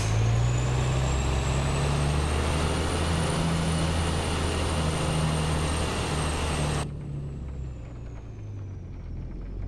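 Truck engine in Euro Truck Simulator 2 drones loud and steady with a deep rumble and a high whine, then drops suddenly to a softer, muffled hum near the end.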